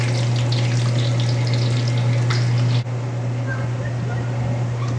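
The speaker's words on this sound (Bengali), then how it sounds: "তেল যখন ঠিক হয়ে গেছে, তারপর আস্তে আস্তে নামিয়ে আলুগুলো টু করে এখানে ফেলবো" Potato pieces fry in hot oil with a loud, steady, close hiss that runs the whole time over a constant low hum, dipping briefly before continuing.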